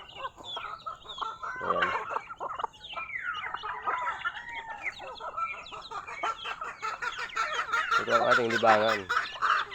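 Native chickens cluck across a farmyard in scattered, overlapping calls, with a louder burst of clucking near the end while someone talks throughout.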